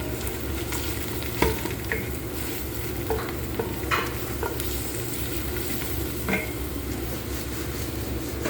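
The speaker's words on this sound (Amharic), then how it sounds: "ባሚያችንን እንጠብሳለን።" Okra frying in a pan with salsa and spices, a loud continuous sizzle and crackle close up, with scattered scrapes of stirring and no talk.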